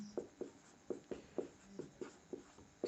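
Equations are written on a board during a maths lesson, a series of short, quiet taps and strokes in an uneven rhythm, close by, with no talking.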